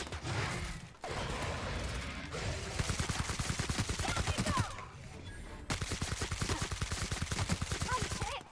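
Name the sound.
gunfire in The Outer Worlds video game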